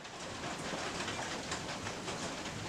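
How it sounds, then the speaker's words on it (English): Rain falls outside a room housing a toy train layout, a soft, even patter and hiss that runs steadily through the clip, faint and distant with no talking. "it's currently raining out"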